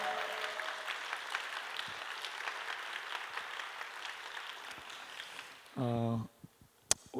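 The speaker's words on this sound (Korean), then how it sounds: "우리 온 마음을 다해서 박수를 한 번 더 환영의 박수를 올려드렸으면 좋겠습니다" A church congregation at a university student service claps to welcome new members, a soft, fairly distant patter of hands that fades out, followed by a brief spoken phrase and a sharp knock.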